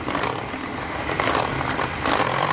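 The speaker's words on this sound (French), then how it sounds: "je vais bien mélanger jusqu'à ce que toute la pâte soit bien incorporée, soit bien lisse, pardon, bien homogène" An electric mixer whirs loudly and close while beating a lightly sweetened coconut cake batter, a continuous motorized drone with small shifts in pitch and scraping texture over a couple of seconds.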